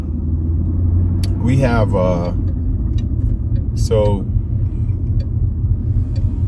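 Steady, loud low road rumble inside a moving car fills the whole stretch, with someone speaking briefly over it.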